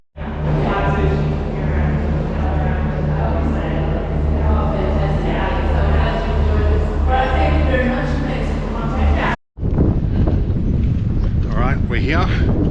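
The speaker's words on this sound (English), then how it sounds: "It's windy and it's wet." Strong wind gusts buffet the microphone outdoors on a wet, rough island, a constant roar that drops out briefly near the end and then returns, with no clear speech.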